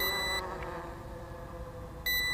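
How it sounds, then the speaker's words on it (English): A Banyangtoys X21 quadcopter drone emits shrill electronic beeps while returning home, one burst at the start and another near the end, loud and close, with its hum between. "that's why it's beeping, because it's returning to home"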